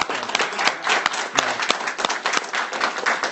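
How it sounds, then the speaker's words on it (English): A small crowd at a game developers' meetup claps with uneven, distinct hand claps in a steady round of applause, close and moderately loud. "one last round of applause"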